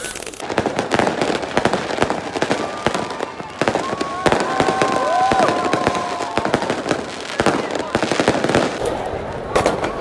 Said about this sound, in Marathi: फटाके बघा